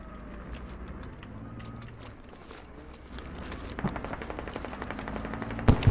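Gunfire in the video game Squad, dense repeated shots and bursts at a distance under low rumble, growing louder toward the end with a couple of sharp near cracks.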